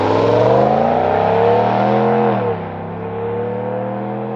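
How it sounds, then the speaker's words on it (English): A 2026 Ram 1500 Warlock with a HEMI V8 and sport exhaust roars loudly and close during a burnout, a sustained high-revving drone that dips and settles into a lower steady rumble. "That sound though, the Sport Exhaust Standard, that was like the best thing they could have done."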